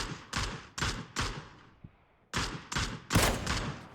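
Video game gunfire crackles in sharp, loud bursts: four quick shots, a short lull, then another rapid volley, with no voices.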